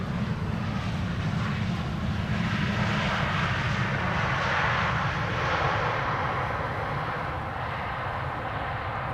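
An Airbus A320 at Amsterdam Schiphol Airport produces a continuous, even engine roar with a strong low rumble, moderately loud and unbroken for the whole stretch, with no speech.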